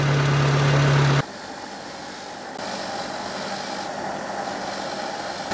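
Renault Clio engine idling just after repair in a workshop; a loud steady hum drops abruptly to a quieter, even idle, with no speech.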